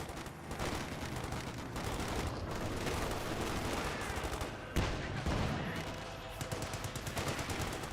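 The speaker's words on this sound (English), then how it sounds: "Enemy infantry firing at us!" Sustained infantry gunfire from Company of Heroes 2, rapid overlapping rifle and machine-gun bursts forming a dense, continuous battle din with one sharper report near the middle, no talk over it.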